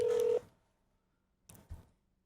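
A short burst of steady telephone keypad tones at the start, loud and clear, then two brief soft clicks or knocks after a pause of near silence.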